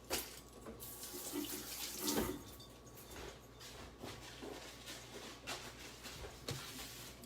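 Tap water runs into a kitchen sink while something is washed under it, a steady soft flow with occasional splashes and clinks, faint and close, no talk.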